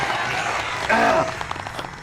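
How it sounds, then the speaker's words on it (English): Audience applause at a live comedy show, a dense patter of clapping from a crowd, fairly loud and steady, with a brief swell and scattered cheering partway through before it thins out. "You can settle down with the applause."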